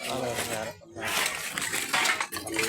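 Pieces of scrap iron clink and clatter against each other as they are sorted by hand at a junk collection stop, with someone talking over the metallic knocks.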